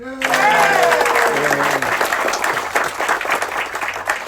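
An audience claps for crew members being introduced at an onboard celebration, with a sustained burst of applause that starts loud and then eases slightly, and a voice briefly heard near the start.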